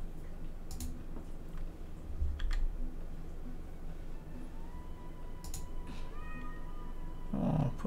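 A cat meows inside a computer game, two or three short plaintive calls over a steady backdrop of game music and intermittent keyboard typing and clicks.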